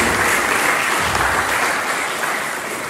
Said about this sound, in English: can you please put a round of applause for my friend